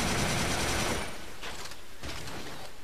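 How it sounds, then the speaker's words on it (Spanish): Rapid gunfire from the video game Resistance 3, with bullets bursting in small explosions as they hit a wall. A dense, continuous burst fills the first second, then two sharper bursts crack out a moment apart. No one speaks. "tú disparas a la pared y también hace una mini explosión cuando choca con la pared"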